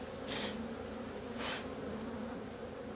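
Honey bees buzz steadily around an open hive during a spring split inspection, a dense close drone with two brief louder swells as insects pass near, and no talking.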